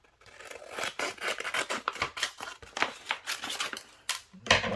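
Scissors snipping through craft material for homemade Christmas decorations, a run of quick close cuts with short pauses, rasping and rustling between snips, no talk.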